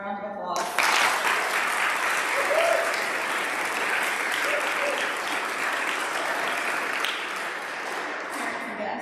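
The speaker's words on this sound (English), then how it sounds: "Give them one more round of applause." An audience at an 8th grade speech event breaks into sustained applause, a dense wash of clapping that swells quickly and holds steady, with a voice heard briefly at the very start.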